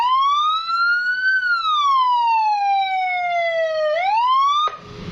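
Long tone from a custom police-escort siren on an older Yamaha NMAX motorcycle: one loud, close, sustained wail that slowly rises, glides down, then sweeps back up before cutting off abruptly.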